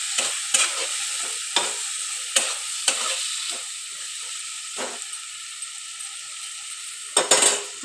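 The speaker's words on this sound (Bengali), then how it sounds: "আর মটরশুঁটি তেলে দিলে ফটফট করে ওঠে, ফোটে মটরশুঁটি খুব।" Green peas in hot oil with spices give a steady crackling sizzle, with sharp spoon scrapes and stirs landing every second or so close by. No voices.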